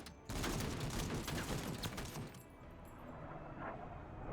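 A strafing run in the MENACE video game unleashes a dense, loud roar of rapid gunfire for a couple of seconds, then fades into a lower rumbling tail with scattered distant pops.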